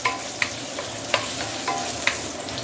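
Shiitake mushrooms frying in hot oil, a continuous close sizzle broken by a few sharp spatula clinks and stirring scrapes, with no voices.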